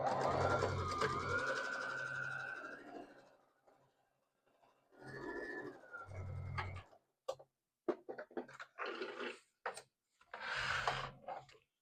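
A sewing machine stitches quilt fabric pieces right side to right side for a scrap quilt block, running in two sustained bursts followed by short stop-start runs and clicks.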